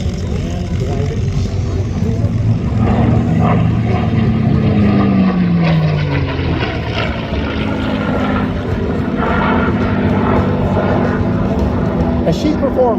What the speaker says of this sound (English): The North American P-51 Mustang she's flying